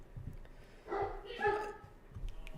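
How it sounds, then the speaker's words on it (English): A large dog gives two short, close barks in quick succession, rising above a quiet room background with low noise. "That's the dog that, if you could hear that bark, that was Bruno."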